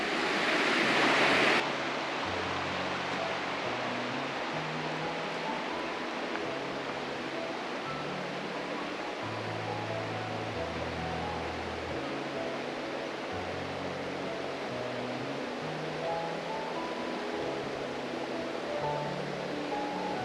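Shallow, very cold creek water flows steadily at a day use area, a continuous broadband rush with no breaks, with a brief louder surge at the start before settling into an even wash.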